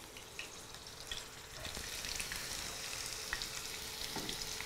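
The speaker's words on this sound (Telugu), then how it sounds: "ఉల్లిపాయ ముక్కలు ఇవి కూడా బ్రౌన్గా వచ్చే వరకు, బ్రౌన్ కలర్ వచ్చేంత వరకు వేపేద్దాం." Onion pieces frying in oil in a pan until browned, a steady, fairly quiet sizzling hiss with faint crackles and occasional light clinks throughout.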